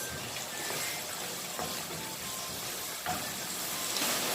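Water is poured into a pot of turnip and pea curry, giving a soft, steady, continuous splashing rush that stays fairly quiet throughout.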